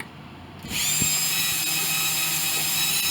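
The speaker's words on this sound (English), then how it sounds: "Hopefully you can hear me alright over the sound of the Dremel." A Dremel rotary tool starts up after a brief quiet moment and then whines steadily and loudly at high speed, close to the mic, with no talking over it.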